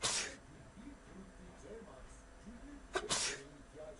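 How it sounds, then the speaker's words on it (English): A sneeze set off for a droplet-tracking experiment, with one sharp burst at the start and a second loud sneeze around the three-second mark over a low murmur of talk. "First, sneezing."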